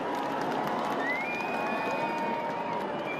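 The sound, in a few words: crowd cheering at flypast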